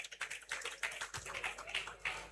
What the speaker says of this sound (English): So clap for her.